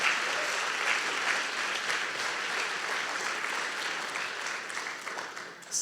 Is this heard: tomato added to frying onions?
no